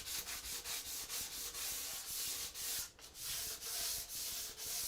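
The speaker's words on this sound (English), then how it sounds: "giving that a little bit of a scuff over with a piece of sandpaper" Sandpaper scuffs a wooden dovetail drawer, rapid rhythmic back-and-forth rubbing strokes at close range, soft but continuous with a brief pause midway.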